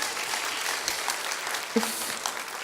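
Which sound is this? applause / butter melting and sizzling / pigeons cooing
applause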